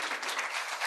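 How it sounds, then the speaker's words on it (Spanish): Brief, fairly faint applause from an audience at an academic panel session, steady clapping with no voices. "Pero pedirles un gran aplauso para los 4"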